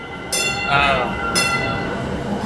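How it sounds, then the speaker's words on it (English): Train running on the Boston subway line, a loud steady rumble with squealing, screeching wheel tones rising and falling over about two seconds, continuous and close. "Train is making noise."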